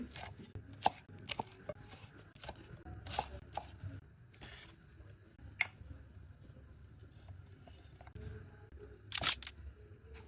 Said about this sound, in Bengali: এখানে আরও চার পাঁচ পিস কাঁচামরিচ স্লাইস করে দেব